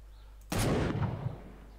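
A single object explodes in the GameGuru video game: one sudden loud blast followed by a short, rumbling decay lasting under a second.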